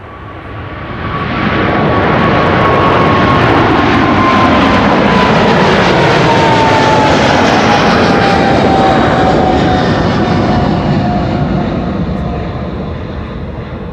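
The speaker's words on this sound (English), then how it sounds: "this is a KLM 777-300." A KLM Boeing 777-300 jet taking off from Schiphol's Kaagbaan runway, a loud, sustained engine roar that builds over two seconds, holds with a thin descending whine, then slowly recedes into the distance.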